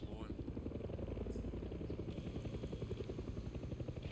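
Helicopter flying near a gun emplacement in the video game Far Cry 6, a steady rotor drone and chop that runs through the whole stretch at constant loudness, with game sound effects over it.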